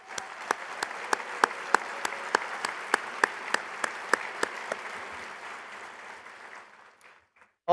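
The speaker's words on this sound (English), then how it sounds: "Could we give a round of applause to Eric and Karen?" An audience claps at a presentation event, a dense wash of applause broken by regular sharp individual claps. It tapers off near the end before a brief sound at the close.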